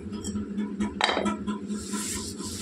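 Metal plates, pots and pans handled in a home kitchen, with a few close clinks and one sharp clatter of dishes knocking together against a low background hum.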